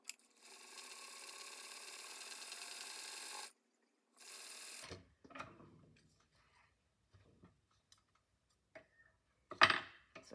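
A large sewing machine straight-stitches along the edge of a lanyard keychain, running in a steady mechanical whir for a few seconds, pausing, briefly resuming, then giving way to quiet handling clicks and taps.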